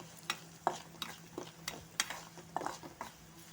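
A spoon stirring a dahi tadka mixture of chili, sugar and spices in a pan, giving faint, intermittent scrapes and clinks at an uneven pace over a quiet background.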